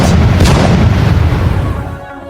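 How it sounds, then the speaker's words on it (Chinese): Animated RPG rockets explode on floodwater below a building, a loud booming burst up front that rumbles and decays over a couple of seconds, with no voices. "我拿出 RPG 分给沈山他们，开始对着楼下的水面狂轰滥炸"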